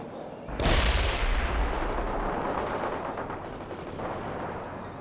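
In the video game World in Conflict, a loud burst of gunfire and artillery erupts on a battlefield. A sudden heavy blast is followed by a long rumbling tail and continuous crackling small-arms fire.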